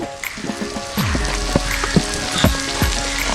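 Ground coriander and masala powder tipped into onions frying in a pan for a buffalo rib curry, giving a steady close sizzle with a few soft stirring scrapes and no talk.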